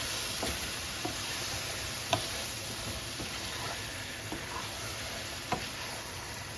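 About three quarters of a kilo of marinated chicken is stirred and fried in a pot for biryani, a soft, steady sizzle with scattered light scrapes and taps of the spoon against the pot.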